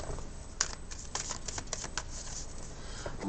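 Tarot cards shuffled by hand close up, a run of quick papery riffles and soft flicks with a few sharper taps, fairly quiet and alone without talk.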